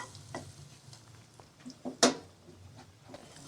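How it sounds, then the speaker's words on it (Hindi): Two tablespoons of flour fry with ginger in a pan, giving a soft, low sizzle as a spoon stirs it, with one louder scrape against the pan partway through. "2 टेबल स्पून मैदा लेके इसको थोड़ा सा फ्राई करेंगे।"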